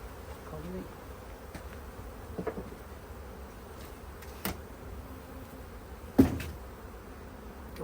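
Honey bees buzz around an open hive while a new box is added, a steady, close, droning hum with individual bees flying past the microphone and a few faint knocks of equipment.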